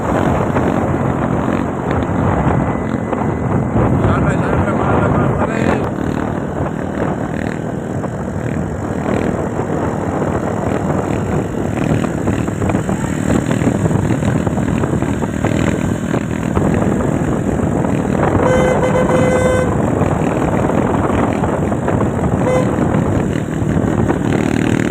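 A modified Suzuki Fiero motorcycle doing wheelies: a continuous loud engine drone with revving that swells and falls, mixed with heavy wind buffeting on the microphone.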